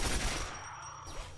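Rapid burst of turret gunfire in the Quake 4 video game, a loud, dense fusillade filling the short moment with sharp repeated shots and no talk.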